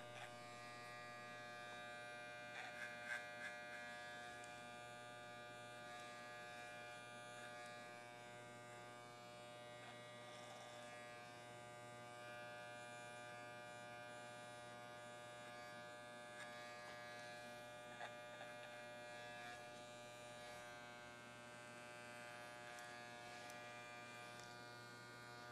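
An electric hair clipper shaves upward on a man's head during a classic barbershop business cut. It gives a steady, close, continuous buzz with slight shifts in pitch as the blades move, and no talking.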